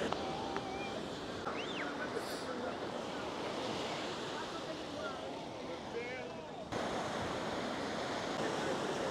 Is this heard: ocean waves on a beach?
yes